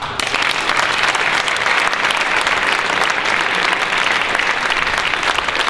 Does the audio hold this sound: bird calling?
no